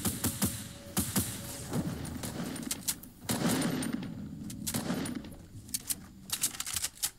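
Turrets in Fortnite firing rapid bursts of clattering shots, sharp repeated pops in uneven clusters with brief pauses between volleys, moderately loud over game background noise.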